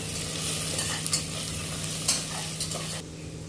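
Ginger garlic paste fries in a pan with a dense, steady hiss and a few faint clicks from stirring. The sizzle drops off sharply near the end.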